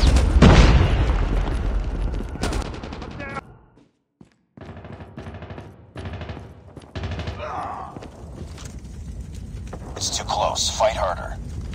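A frag grenade explosion in Call of Duty, a loud deep boom at the start amid game gunfire, followed by quieter in-game sounds and announcer voice lines.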